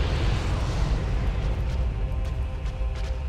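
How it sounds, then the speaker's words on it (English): In Dark Souls, a fiery explosion from a pyromancy build roars throughout the short stretch as a dense, continuous rumbling blast with heavy low-end boom and crackle. "Yep, explosion."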